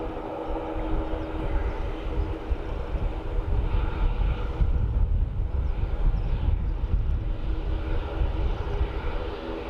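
A large jet aircraft roars steadily at a distance, a broad rushing engine drone that swells slightly in the middle and holds throughout.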